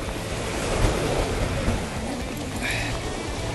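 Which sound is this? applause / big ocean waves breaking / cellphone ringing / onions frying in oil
big ocean waves breaking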